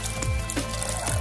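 Liquid pouring and trickling into a cooking pot as a litre of water is added to lugaw with cauliflower, a short continuous splashing stream close by.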